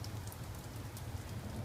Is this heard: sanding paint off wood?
no